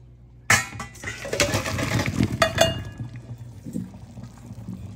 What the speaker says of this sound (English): We're going to put these in the colander